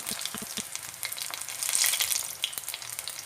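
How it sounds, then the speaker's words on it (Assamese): Paneer pakoras fry in a pan while being stirred, producing a close, continuous sizzle with a few scraping knocks from the stirring and a louder surge of hissing partway through. "মই দেখুওৱা ধৰণে চাওক, কেনেধৰণে মই লৰাই দিছোঁ।"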